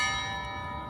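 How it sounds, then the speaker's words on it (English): Church bells ringing in Kyiv on a Saturday evening during New Year celebrations, a sustained ringing tone fading slightly across a brief moment, heard alone. "Oh, some bells."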